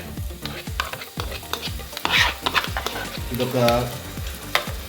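Yogurt hits frying masala for goat head curry and is stirred through the pan, giving a close, steady sizzle broken by rhythmic spoon scrapes, with a brief spoken word near the start.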